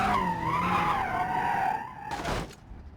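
A stock car in BeamNG.drive skids and spins out, with a loud continuous tire squeal and engine whine that fades and ends with a brief thump.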